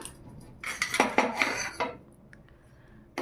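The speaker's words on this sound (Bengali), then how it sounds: "শাকটা এবারে গ্যাসটা বন্ধ করে কড়াই থেকে উঠিয়ে নেব" A spoon scrapes cooked jute greens out of a metal wok after the gas is switched off, making a burst of close metallic scraping and clanking in the middle, then fainter taps and a final clink.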